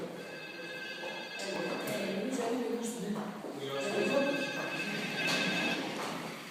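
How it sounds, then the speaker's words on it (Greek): A telephone rings in two long bursts of bright, trilling tones separated by a short gap, with people talking over it. "Τηλέφωνο χτυπάει πάλι."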